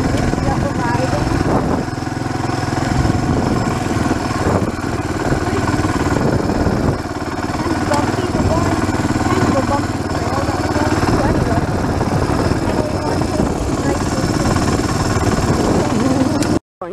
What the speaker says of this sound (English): What is the dirt bike called again? The one that we're riding?